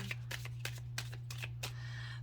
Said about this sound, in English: I pull my cards back a lot when I shuffle because I like shuffling kind of quickly